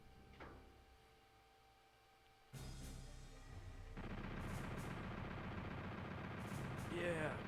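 Gunfire from a video game, a sudden loud burst of shots and booms that keeps going steadily, with a voice talking over part of it.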